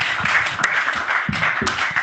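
A church congregation applauding during a French-language service, a dense, steady patter of many hands clapping at moderate loudness with a few sharper claps, brief and continuous.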